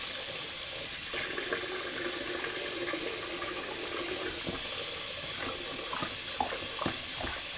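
Running tap water pours into a shaving bowl, a steady splashing rush with small clinks and bumps near the end as the bowl is rinsed.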